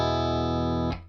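A single sustained chord on an electric guitar played through a clean tone with no overdrive, ringing steadily and alone before being cut off near the end.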